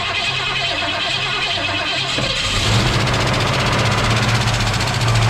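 A 1965 Mustang barn-find engine cranks over, then catches and settles into a loud, steady running sound with some lifter ticking.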